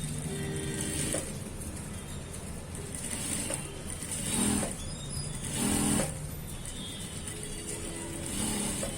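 A sewing machine runs a half-inch seam along a sleeve of a medical uniform, its rapid mechanical stitching whirring steadily. It surges louder in several short bursts, with no talk.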